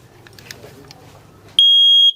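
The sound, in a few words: smoke detector alarm sounding after test button pressed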